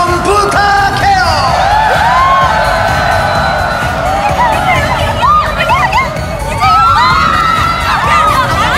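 A big crowd cheers, screams and whoops loudly and continuously for nearly nine seconds, high excited shouts rising and falling in dense overlapping waves, close and alone without distinct talk, at a party scene for a K-pop music video.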